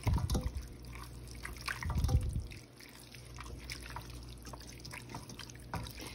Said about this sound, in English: Go ahead and stir it in the sauce.